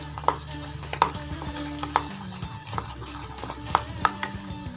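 Semolina halwa being stirred and mixed in a pan, with a spoon knocking and scraping at the pan about once a second over a low sizzle and a steady hum, close and alone.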